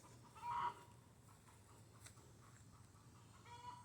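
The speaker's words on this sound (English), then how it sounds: "that means chickens are getting ready to lay" Chickens clucking faintly in the distance around a backyard garden, one brief louder cackle early, then scattered soft calls.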